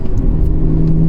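VW Golf Mk6 with a 1.4 TSI engine accelerating hard on full boost, a loud, steady close-up engine drone climbing in pitch with no talk over it.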